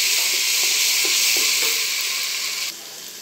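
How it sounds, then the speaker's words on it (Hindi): Onion, green chillies and tomatoes fry in a pan with a bright, continuous sizzle and hiss, broken by a few soft stirring taps, then dropping quieter near the end. "प्याज तकरीबन फ्राई हो गया, अब इसमें डाल देंगे सब्ज़ मिर्चें और टमाटर और इसको अच्छी तरह हम फ्राई कर लेंगे।"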